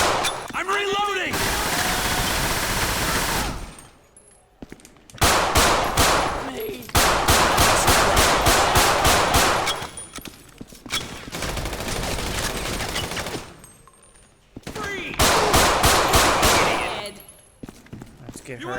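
Gunfire in GTA 5 with the LSPDFR mod during a bank heist: long, loud bursts of rapid automatic fire separated by brief pauses, with some talking in between.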